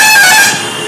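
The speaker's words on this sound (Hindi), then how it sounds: "हॉर्न दे रहा है" A vehicle horn honks loudly from behind on a road near a college, a sustained blare that eases off into steady traffic noise.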